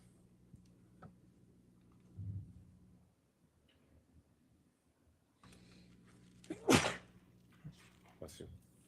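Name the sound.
sneeze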